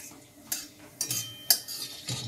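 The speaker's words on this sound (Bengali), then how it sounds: "সামান্য একটু পাঁচফোড়ন দিয়ে দিলাম, ফোড়নটা একটু ভেজে নিয়ে বাকি জিনিসগুলো দেব" Panch phoron spices fry quietly in a pan while a utensil scrapes and clinks against the metal in a few sharp, separate strokes over a faint sizzle.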